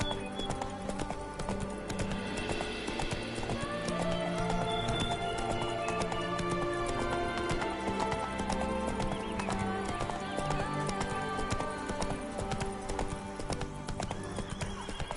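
In The Witcher 3: Blood and Wine, Roach gallops with a rapid steady clip-clop of hooves, loud and close, plus an occasional whinny over a constant rhythmic drumming.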